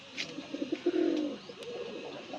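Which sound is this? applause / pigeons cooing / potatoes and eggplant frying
pigeons cooing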